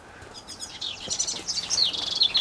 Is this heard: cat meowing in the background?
no